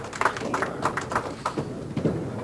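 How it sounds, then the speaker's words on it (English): A candlepin bowling ball strikes the pins for a spare, with a quick rattling series of hard wooden clatters as the pins scatter and tumble, fairly close and without voices. "nice big spare right there for Bob Mazor"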